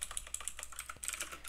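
Rapid clicking keystrokes on a computer keyboard while writing Python code for a Twitch bot, a steady close-up patter of individual key presses with no speech.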